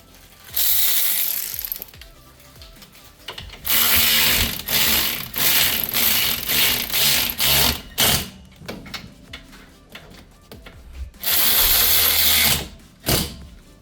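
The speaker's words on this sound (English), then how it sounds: "we're going to use the same 40mm bolt, 40mm socket with the ratchet, just like so" A ratchet fitted with a 40mm socket tightens wheel bearing bolts on a 2012 Kia Soul 2.0L rear hub, making loud close bursts of rapid clicking with short pauses between them, without talk.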